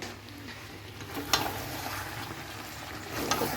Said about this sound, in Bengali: মাংসটা ভালো করে কষিয়ে নিচ্ছি।